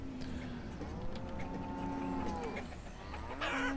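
Cattle lowing in the farming game Banished, a moderately loud in-game moo against steady ambient farm noise with faint clucking, no talk.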